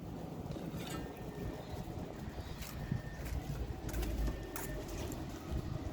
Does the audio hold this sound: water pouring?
no